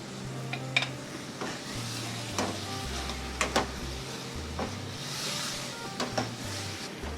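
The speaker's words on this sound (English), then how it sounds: "this is toasted belachan, so I'm gonna add a toasted belachan" Toasted belachan shrimp paste going into a Malaysian nyonya chicken stir fry with a cinnamon stick, a low steady sizzle broken by scraping and clinking of a spatula against the pan, close by with no talking.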